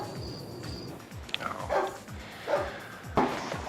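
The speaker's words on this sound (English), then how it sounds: "That's 2 hours you've been barking." A dog yips and barks in short, sharp bursts at close range, several irregular barks over a low background with faint whimpering.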